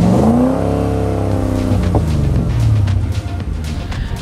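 A Corvette LS3 V8 fitted in a Land Rover Defender fires up for the first time, rising through loud revs and then settling into a rumbling idle close by, with no talking.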